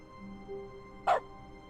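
A single short dog bark rings out in dog mode in The Stanley Parable, a brief clear yelp over a quiet game backdrop.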